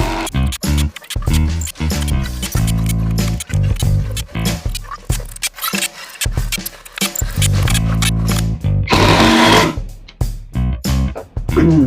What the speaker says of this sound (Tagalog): Sinet ko rin pala yung impact driver sa pinakamabilis na mode.